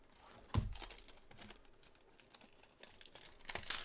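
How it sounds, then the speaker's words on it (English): Cardboard box being opened by hand, with crinkling, tearing and scraping bursts, a sharp rip near the start and more scattered tearing toward the end, fairly quiet and close with no talking. "You can use scissors, whatever, to open up the box."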